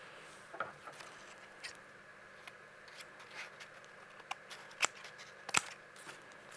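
Scissors snip off an extra strip of craft paper for a snowman craft, a few quiet, sparse cuts with soft paper rustles in between, close and faint in a quiet room.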